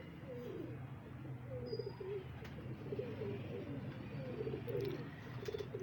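Pigeons cooing in a loft, repeated soft throaty coos in a steady rolling rhythm over a low background hum, fairly close and continuous throughout.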